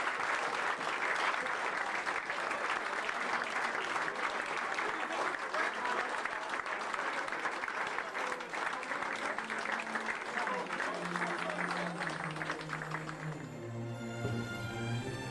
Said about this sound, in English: One round of applause again for Bill Stokeld